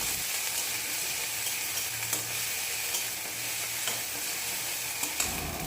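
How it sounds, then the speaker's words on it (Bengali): Mustard and green chili paste frying in oil while being stirred: a constant close sizzle with occasional spatula scrapes and light knocks against the pan, even in level throughout, no speech. "সর্ষে লঙ্কা বাটাটা এবার তেলের মধ্যে দিয়ে কিছুক্ষণ ধরে কষিয়ে নিচ্ছি"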